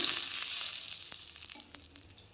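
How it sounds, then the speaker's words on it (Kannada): Two spoonfuls of hot oil are poured into gram flour batter for Mysore bajji, giving a brief bright sizzle that starts loud and fades over about two seconds, with faint clicks. "ಎರಡು ಸ್ಪೂನ್ ಆಗುವಷ್ಟು ಕಾದಿರುವಂತಹ ಎಣ್ಣೆಯನ್ನು ಸೇರಿಸ್ತಾ ಇದ್ದೀನಿ"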